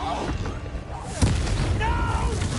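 A Confringo spell explodes in Hogwarts Legacy with a short, punchy boom in the middle of busy combat sound, while voices shout over the fight.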